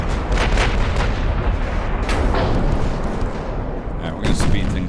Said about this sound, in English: Here comes his big guns firing.